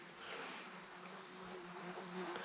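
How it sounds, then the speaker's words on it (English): Continuous bee buzzing outdoors, steady and fairly faint, with a constant high whine throughout and no voices. "deal with this bee"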